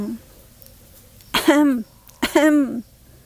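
Two loud, close throat-clearing bursts a moment apart, each a harsh rasp that rises into a voiced tail.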